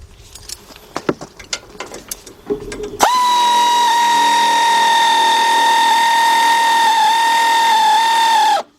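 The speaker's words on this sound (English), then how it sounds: "my 3/8 drive air ratchet, and I want to tighten up these 3 15mm nuts" A 3/8-inch drive air ratchet runs in one long steady whine for over five seconds, tightening 15mm nuts on top of a strut assembly, after a few seconds of clinking and handling of tools; loud and close.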